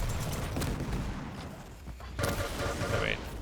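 Railgun shot in a Quake Pro League match on the Ruins map, a sharp burst amid dense game gunfire and explosions, with a second crack later, all under continuous loud action.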